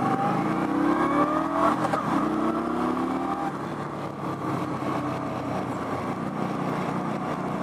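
A 2018 Indian Scout Bobber V-twin motorcycle engine revs up with rising pitch, then settles into a steady, loud, close rumble.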